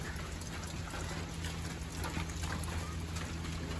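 Steady rain falls during a storm with low pressure, a dense, even hiss of drops with a low rumble underneath, continuous and fairly faint throughout.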